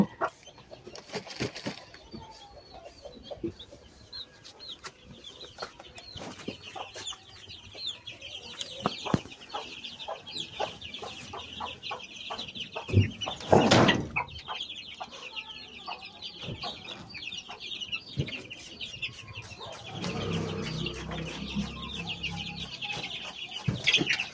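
Hens on a farm, about to be sprayed against lice, cluck intermittently, with a rooster among them and occasional wing flaps. The calls are moderately near but fairly soft, with a louder burst of activity midway and a busier stretch toward the end.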